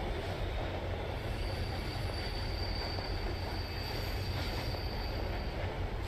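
Continuous rumble of a train ride in the horror game Train 113, steady rolling carriage noise with a faint high squeal of wheels on rails, loud and unbroken throughout with no talking.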